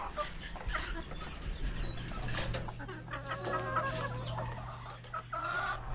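Several young chickens cluck and chatter nearby in an irregular back-and-forth inside a coop, with a steady low hum underneath.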